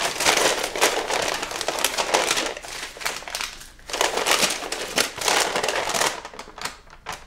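Liner being peeled back from a 21-pound coffee-ground soap slab, producing a dense, continuous close crinkling and crackling that swells and eases over several seconds.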